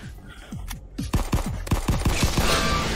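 Video game gun firing in a steady, fairly slow rhythm, about a dozen loud punchy shots in a row after a couple of earlier isolated blasts, close and prominent.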